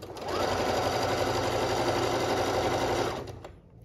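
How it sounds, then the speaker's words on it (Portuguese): Domestic sewing machine stitching underwear, a loud, close, rapid mechanical whir that runs steadily for about three seconds and then winds down and stops. "Ajeito a minha peça, tensiono e costuro."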